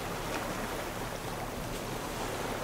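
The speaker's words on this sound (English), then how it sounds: "Ooh, water over the deck." Waves wash water over the deck of a raft in the Raft survival game during a storm, a continuous broadband rushing and sloshing that stays steady and fairly soft throughout.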